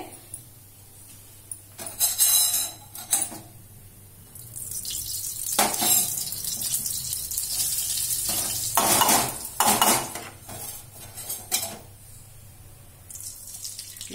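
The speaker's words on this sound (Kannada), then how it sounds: "ಈಗ ನಾನು ಇನ್ನೊಂದು ಅರ್ಧ ಕಪ್ಪು ಬೇಸನ್ ಹಿಟ್ಟು ಇದು ಇಟ್ಕೊಂಡಿದ್ದಲ್ಲ ಕಡಲೆ ಇಟ್ಟು ಅದು ಹುರ್ಕೊಂತೀನಿ" Besan flour roasting in ghee with semolina and coconut for laddu, heard as intermittent stirring scrapes and soft sizzling in a pan, with bursts of louder scraping and quieter gaps.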